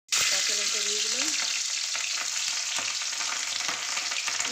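Black cumin seeds and green chillies sizzle loudly in hot oil for a Bengali lote fish chorchori. The crackle is constant and close, with a few faint stirring clinks.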